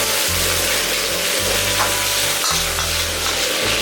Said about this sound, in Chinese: 菜脯炒香后，下6头，把鹅肉倒进去